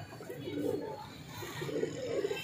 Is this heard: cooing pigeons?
yes